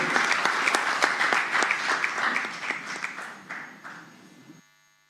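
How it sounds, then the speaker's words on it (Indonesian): A crowd at a political party event applauds as a politician is welcomed to the podium, dense clapping with sharp individual claps that slowly fades and then cuts off. "Kita berikan tepuk tangan yang meriah."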